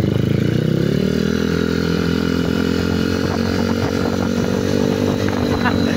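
A Suzuki Raider F5 motorcycle races close by, its engine holding a loud, steady, rising whine with a raspy buzz the whole time, mixed with other small bikes in the race.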